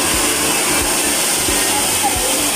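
A hair dryer blows with a loud, constant whooshing roar that stays steady for the whole stretch.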